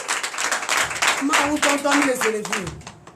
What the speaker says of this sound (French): Donnez de vive acclamation à notre Dieu.